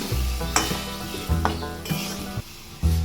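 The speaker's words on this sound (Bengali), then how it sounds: "একটু হালকা করে নাড়িয়ে দেবো।" Hilsa fish curry in mustard sauce being stirred in a pan, rhythmic scraping strokes and soft clanks over a bubbling sizzle, close and fairly loud, with no talking.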